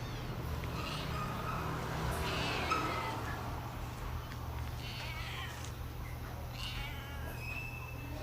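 A small kitten meows repeatedly, several thin, rising cries spaced irregularly over a quiet, hissy indoor background.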